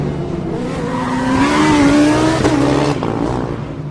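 A Formula Student race car, Stuttgart's car 29 in the FSG endurance final, passes on the circuit, its engine note rising and falling loud and close, with a brief tyre squeal.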